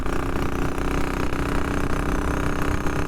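A Triumph Scrambler motorcycle engine runs steadily while riding home in wet weather, a continuous mid-to-low drone with slight fluctuations in pitch, close and fairly loud.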